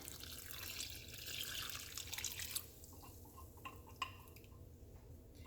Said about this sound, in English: So now I'm just going to add my hot water to the bowl of pureed chili